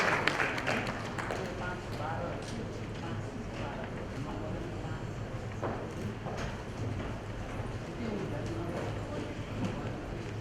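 A crowd applauding at a stage event, guests being welcomed on, a dense continuous patter of clapping heard throughout at a moderate distance.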